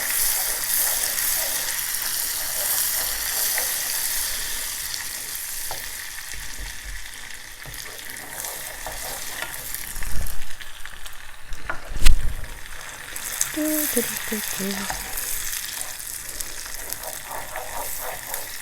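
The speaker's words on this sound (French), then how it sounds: "Vous mélangez jusqu'à ce que votre beurre soit fondu." Butter melts in a pan for a salted caramel spread, giving a steady, close sizzle with occasional stirring scrapes and a few louder knocks toward the end.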